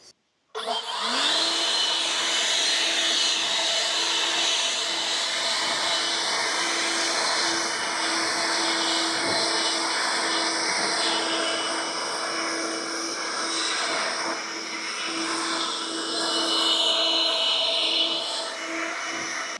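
A heavy battery-powered lawn mower starts up and runs steadily, a loud, even electric whir with a high whine, sustained close by with slight swells as it moves across the grass.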